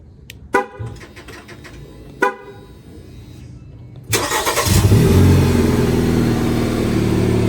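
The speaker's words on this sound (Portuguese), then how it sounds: "ele liga na chave" A Jeep Compass bought at auction cranks with the key and fires up, the engine catching after a few quiet clicks and settling into a steady, loud idle close by.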